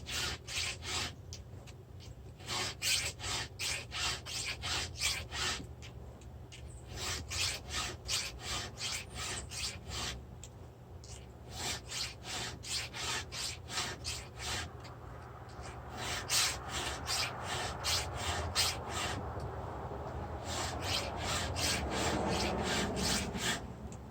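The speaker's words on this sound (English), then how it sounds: "Not filing on the backstroke. Watching every tooth as I go." A hand file scrapes rhythmically across the teeth of a ripping chainsaw chain, dozens of steady, evenly spaced forward strokes close by, with short pauses between teeth and no talk.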